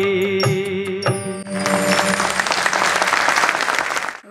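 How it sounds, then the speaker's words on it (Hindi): A hall audience breaks into loud, dense applause after a few sung notes fade, clapping steadily for several seconds close and full, with no talking. "बहुत बहुत शुक्रिया आपकी इन ज़ोरदार तालियों का"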